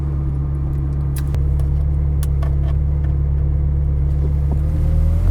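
A 2004 Ferrari 360 Spider with an F1 transmission and about 10,000 miles pulls away, its engine giving a loud, steady low growl close by, with a few light ticks and clicks over it and no talking.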